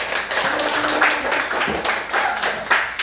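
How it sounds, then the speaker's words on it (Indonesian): A classroom of students claps for a student group, a close, busy patter of many hands that carries steadily for a few seconds. "Ya, kasih tepuk tangan untuk kelompok kita."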